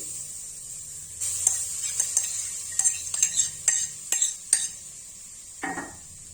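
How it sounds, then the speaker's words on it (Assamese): Grated coconut being roasted and stirred in a kadai for jaggery suji coconut ladoo, a soft dry sizzle under a series of sharp scraping clinks of a spoon against the pan, close and fairly quiet. "এতিয়া কেৰাহীত নাৰিকল লুকাৰিম।"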